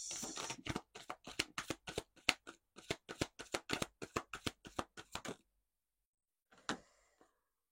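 Oracle cards being shuffled by hand, a rapid run of crisp riffling flicks for about five seconds, then silence and a brief final shuffle, close and alone with no talking.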